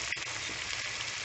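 Hilsa fish egg curry with coriander leaves fries in a pan, a continuous dense sizzle with light stirring scrapes, close and steady, no voices.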